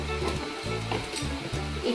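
Frying spices with ground coriander just added hiss and sizzle steadily in a pan, close and loud, with stirring scrapes and low pulses recurring about every half second, and no talk.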